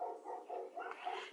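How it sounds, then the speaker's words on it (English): Pet dogs bark indoors in a quick run of several yaps, faint and somewhat distant, with no voices over them. "They're barking at probably the dog behind us."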